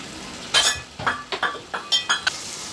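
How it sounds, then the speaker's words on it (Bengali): Chicken pieces with sour yogurt being stirred and braised in a pot for khichuri, with a steady run of close metal spatula scrapes and clinks against the pot, about eight strokes, under soft sizzling. "এই যে মাংসটা এখন আমি কষাই নিই।"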